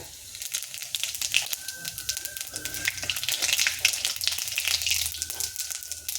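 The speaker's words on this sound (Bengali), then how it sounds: "এবার দিয়ে দেব তেজপাতা তেজপাতা শুকনো লঙ্কা গোটা জিরে" Bay leaf, dry chili and whole cumin crackle and spit in hot oil, with irregular popping bursts over a busy sizzle. A faint tone and some background voice sit beneath the frying.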